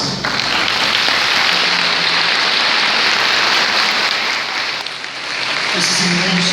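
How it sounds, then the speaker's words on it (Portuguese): A church congregation gives sustained applause, a dense, loud patter of many hands clapping that dips briefly near the end, then swells again as voices rise under it. "para que a nossa comunidade possa saudá-los com uma salva de palmas"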